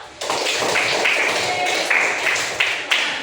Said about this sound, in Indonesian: Ya, berikan aplaus dong.